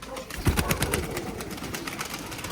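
A female pigeon in a loft gives soft, low cooing close by, a short burst of throaty coos near the start followed by quieter rustling and background noise.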